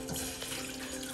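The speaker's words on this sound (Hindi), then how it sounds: "इसके अंदर हम 2 कप ठंडा पानी डालेंगे" Two cups of very cold water poured into a saucepan for Kashmiri pink tea, a brief steady splashing pour heard up close without speech.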